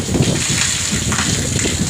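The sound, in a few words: heavy rain with flooding water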